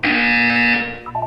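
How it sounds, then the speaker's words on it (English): A loud electronic buzzer from the video game Portal 2 sounds as one sustained, harsh tone for nearly a second, followed by a couple of shorter, softer beeps. "When you hear the buzzer, look down at the floor."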